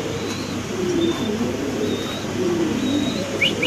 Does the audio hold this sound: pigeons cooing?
yes